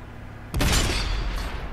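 A World of Tanks tank cannon fires a high-explosive shell: one sudden heavy boom after a quiet moment, then a sustained rumbling decay.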